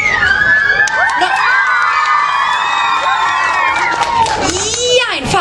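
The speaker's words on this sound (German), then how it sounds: "Jetzt klatschen und jubeln" Crowd of children cheering, shouting and whooping loudly together, a dense sustained wall of high voices with some scattered clapping mixed in throughout.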